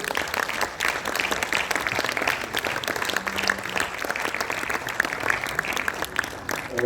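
An audience at an indoor celebration gives loud, sustained applause, a dense wash of many hands clapping that carries on without a break from start to finish.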